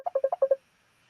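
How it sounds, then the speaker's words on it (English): A phone rings during a live stream as a quick run of six electronic beeps in a fast even rhythm, clear and close, then silence. "I've got Luke messaging me while I'm live, then ringing me."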